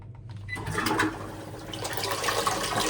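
A Japanese toilet flushes in a bathroom in Japan, a close, steady rush of water that builds quickly after a brief quiet start and keeps gurgling and swirling at an even level without any talk.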